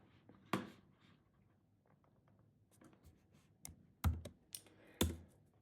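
Quiet, close typing on a computer keyboard: scattered light key clicks with a few sharper taps, irregular in rhythm, and no voices.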